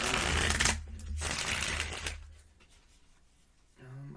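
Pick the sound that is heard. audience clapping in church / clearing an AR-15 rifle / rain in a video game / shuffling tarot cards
shuffling tarot cards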